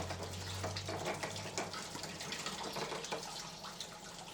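Water runs steadily through an Equi Kool equine leg cooling unit, a continuous close trickling and splashing wash with a low hum underneath for the first couple of seconds.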